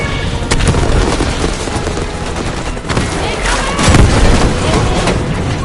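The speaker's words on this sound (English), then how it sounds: "We need to hit him with a rocket." A rocket strike and explosion in the Call of Duty Black Ops 6 campaign, a loud, dense roar of blasts and gunfire that fills the whole stretch, with voices shouting over the din.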